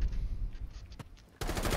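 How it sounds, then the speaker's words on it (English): Gunfire in Rainbow Six Siege, bursts of automatic shots loud and close, with a brief gap before a dense, sustained volley at the end. "Oh, God, I shot the teammate!"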